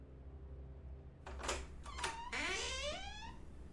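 A door creaks open as a sound effect during a Dungeons & Dragons tabletop session, a few short creaks followed by a long rising, wavering squeal, moderately loud against a low background hum.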